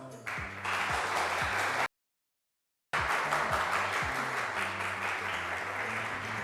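A studio audience on a French game show claps to vote between two teams on the applause meter. Dense, steady applause runs loud, breaks off abruptly into a second of silence, then resumes just as strongly.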